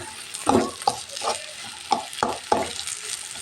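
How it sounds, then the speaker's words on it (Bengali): Mashed potato being fried in oil in a pan, with a steady sizzle broken by regular scraping stir strokes, close and fairly loud, with no talking. "আজকে আলু ভর্তাটা এইভাবেই তেলে ভেজে নেব"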